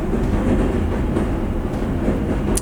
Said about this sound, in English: That train ruins every one of my videos.